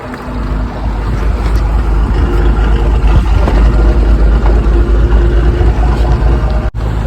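Fishing boat engine running out at sea off Porbandar, a loud, steady low rumble with wind and water wash, one brief dropout near the end, no talk.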